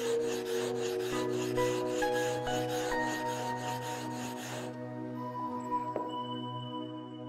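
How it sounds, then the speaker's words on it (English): Chef knife stroked against a level emery whetstone, a steady near rasping rub that runs continuously for several seconds, then eases off with a faint scrape near the end. "Please sharpen it using the emery stone."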